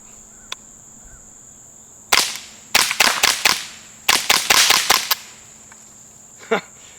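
A suppressed Ruger 10/22 Takedown rifle fires Winchester subsonic rounds in quick sharp cracks, two clustered strings of about five shots each plus a lone shot at the end, quiet and snappy against an outdoor background with insects buzzing.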